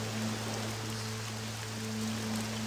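Steady rain in the video game Risen 2, a continuous even hiss that stays level and unbroken throughout, with a faint low electronic hum beneath it and no voices.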